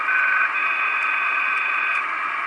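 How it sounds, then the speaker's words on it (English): A homebrew 80/40/20 m SSB receiver gives off a steady band of hiss, peaked and narrowed by a bandpass filter, heard alone and fairly faint for a couple of seconds. "You can hear that peaking with the bandpass filter."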